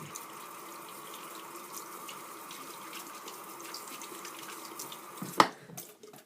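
Tap water runs steadily into a sink while a hair dye brush is rinsed under the stream, a continuous close splashing flow ending in a brief clatter and drips.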